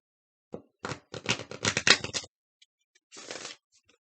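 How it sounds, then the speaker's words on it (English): Stiff oracle cards are riffled and slid together in a couple of short bursts, crisp and close, with brief pauses between. "These cards are kind of hard to shuffle."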